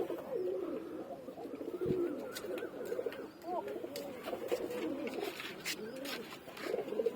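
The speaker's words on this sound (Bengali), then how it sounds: "আরেকবার ছেড়ে দেখাচ্ছি আপনাকে পায়রাটাকে" A Murshidabad Beldanga pigeon is released among other pigeons, which coo in soft repeated calls close by, with faint wing flutters and light background noise.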